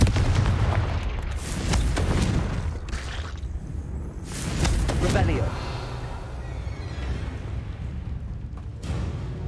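Booming fire-blast of the Confringo spell in the video game Hogwarts Legacy, a few loud explosive bursts over a steady rumble, with a person talking over them.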